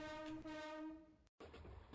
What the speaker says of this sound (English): Oh, and you got a horn.